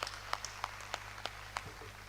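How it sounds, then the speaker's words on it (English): Faint, sparse clapping from a small audience at a formal showcase session, just a few separate claps spaced out over a quiet, humming room. "Please give him a round of applause."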